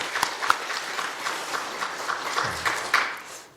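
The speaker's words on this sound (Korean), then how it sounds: "온 마음을 다해서 조금 더 크게 박수 한번 했으면 좋겠습니다" A church congregation at a New Year's Eve worship service claps in a somewhat irregular, moderate burst that fades toward the end.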